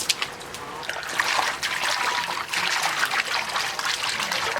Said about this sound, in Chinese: 捞出来再往干净洗一下。